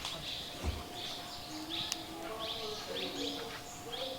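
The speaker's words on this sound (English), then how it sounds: "So many birds are chirping and flying." Several birds chirp and tweet in short, scattered calls throughout, moderately distant, over a low background hum with faint murmuring, at a jungle camp near Kabini forest.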